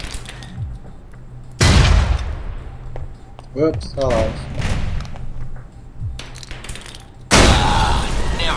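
Grenades blow up a truck in the video game Alpha Protocol, with two loud, sudden blasts that each roll off into rumbling debris, set among other bursts of gunfire and a man's short remarks.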